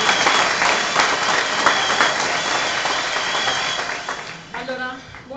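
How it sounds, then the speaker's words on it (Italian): Audience applause for staff at an Italian gathering, a dense, loud wash of clapping that gradually tapers off, with a voice starting to speak near the end. "quindi come staff veramente un grande applauso"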